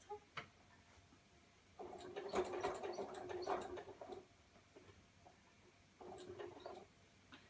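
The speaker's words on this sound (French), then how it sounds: "on va commencer à coudre tout du long du quilt" A sewing machine stitches binding along the edge of a quilt in two short runs of fast, whirring stitching, separated by quiet pauses with light handling noises, heard up close with no talking.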